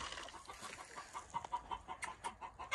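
Several chickens cluck rhythmically in a coop, with repeated mid-pitched clucks close by and a sharper rise toward the end, and no talking.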